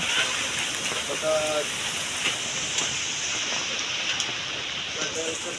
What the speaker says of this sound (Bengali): রাত থেকে শুরু হয়ে গেছে প্রচণ্ড বাতাস আর একটু পরপর বৃষ্টি